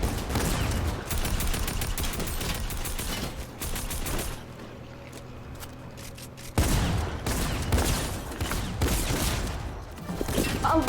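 Gunfire in the Fortnite video game: loud, dense bursts of rapid shots that ease into a quieter stretch and then return with full force, with continuous game sound underneath.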